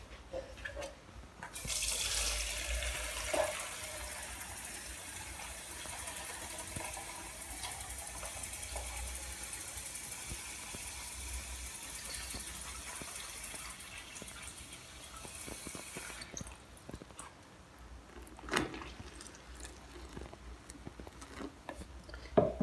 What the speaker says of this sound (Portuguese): Vou acrescentar mais 1 litro de água.